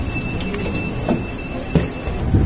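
A Urumqi Railway Bureau T270 passenger train stands at a busy intermediate station, with rumbling low rail noise, a thin sustained squeal and a few clanking bumps throughout.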